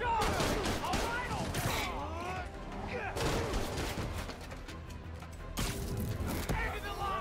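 Gunfire in the Spider-Man Miles Morales video game comes in dense, continuous bursts mixed with loud game effects and shouting voices.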